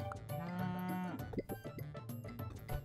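Cow mooing in the Super Auto Pets video game, one long, low, fairly loud moo followed by cartoonish game sound effects.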